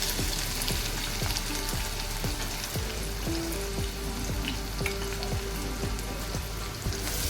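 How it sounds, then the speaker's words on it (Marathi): Garlic and onion fry in hot oil with a dense, steady sizzle that runs unbroken from start to finish, while small pops and crackles scatter through it. "तेल तापलेलं आहे त्यामध्ये आपण लसूण टाकणार आहोत त्यानंतर कांदा"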